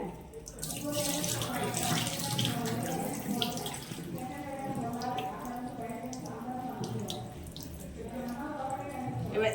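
Water pouring steadily from a tap or vessel into a pot of rice being readied for veg biryani, a soft continuous splashing and gurgle that stays close and fairly quiet throughout.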